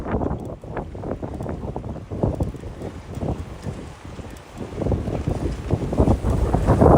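Strong wind buffets the microphone while cycling the Jamaica Bay Loop in New York City, in rough, rumbling gusts that rise and fall and grow louder toward the end.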